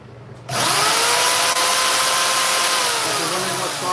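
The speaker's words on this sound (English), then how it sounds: "it's the Wen portable metal cutting bandsaw" A Wen portable metal-cutting bandsaw, mounted on a wooden base, cuts grooves in metal: a steady, close, high-pitched whirring buzz that starts abruptly and runs without a break, with slight shifts in tone as the blade bites.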